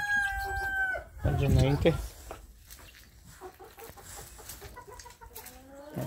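Farmyard chickens, including a broody hen with three chicks on a cold winter farm, give a loud squawking call followed by softer clucks and chirps, while someone speaks briefly.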